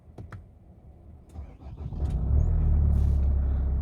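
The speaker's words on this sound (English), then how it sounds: "Start the vehicle." A brand new 2022 Nissan Navara diesel engine cranks briefly, then catches and settles into a loud, steady low rumble that swells and holds close by.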